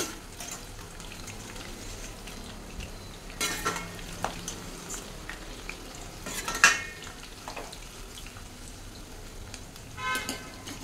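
Baby corn Manchurian stirred and frying in a pan, with a steady sizzle under repeated scraping strokes of a spoon against the metal, a few sharper clinks standing out, close and moderately loud.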